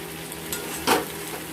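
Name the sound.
water added to fried spice paste, sizzling in pan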